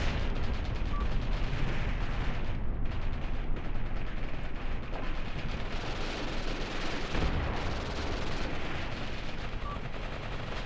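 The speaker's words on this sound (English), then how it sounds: "The MG42 sound effects are based off of the real one." Sustained battlefield gunfire from the Graviteam Tactics video game, with MG42 machine gun bursts blending into dense, loud, continuous shooting and rumbling fire across the whole stretch, with no pauses.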